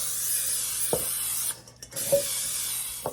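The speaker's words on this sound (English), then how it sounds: "So I'm gonna spray this bowl really good." Cooking oil sprayed into a bowl: a steady close hiss, a brief pause, then a second hissing burst, with faint soft knocks.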